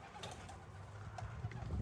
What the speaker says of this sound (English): Beautiful white pigeon there.